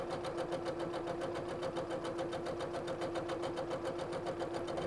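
A sewing machine runs a plain straight stitch down the middle of a fabric strip for a patriotic rag flag, giving a steady, continuous, close mechanical whir with no pauses and no talking.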